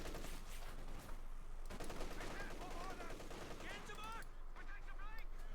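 Machine gun fire from a Company of Heroes 2 match between OKW and Soviet forces, a dense ongoing rattle of gunfire and battle noise sustained throughout, with a commentator's voice running over it.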